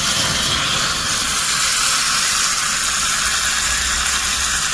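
Steady, loud sizzling hiss of spices, chili and butter crackling in hot oil for a tempering, continuous and close, with no voices.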